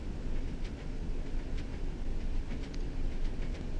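A Class 101 diesel multiple unit runs along the Preston to Carlisle route in Train Sim World 5, giving a steady low rumble with faint rail clicks throughout, fairly quiet and with no talking.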